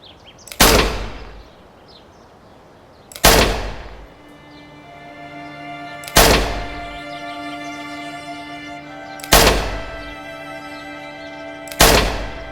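Five loud gunshots ring out one by one, a few seconds apart, each a sharp crack with a ringing tail, fired at a target with no talk between them.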